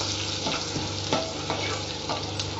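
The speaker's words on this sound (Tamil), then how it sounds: "இப்போ இதோட கட் பண்ணி வச்ச இஞ்சி இதையும் போட்டு வதக்கிக்கலாம் நல்லா வதங்கணும்" Chopped ginger sautés in a pan over low heat while making pongal, a dense continuous sizzle with soft, irregular scraping from stirring, close and fairly loud.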